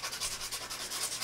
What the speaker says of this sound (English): I'm just going to use this number 100 grit sandpaper.